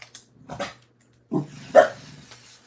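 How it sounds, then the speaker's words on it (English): A small dog gives a few short barks and yips with pauses between them, fairly close by, in a quiet indoor room where a woodworking craft project is underway. No talk is heard. "What are you barking at there, little guy?"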